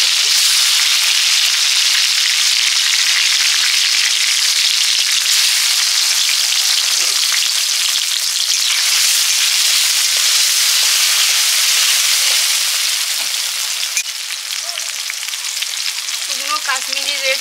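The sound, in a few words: frying chopped tomato with spices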